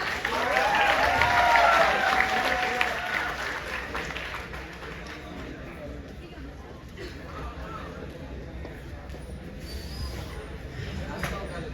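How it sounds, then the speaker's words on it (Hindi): A hall audience at a kavi sammelan at NIT Rourkela applauds to welcome poet Chinmay Srivastava, sustained crowd clapping with cheers that gradually thins into background murmur and scattered claps. "तो ताली से स्वागत कीजिए चिन्मय श्रीवास्तव का।"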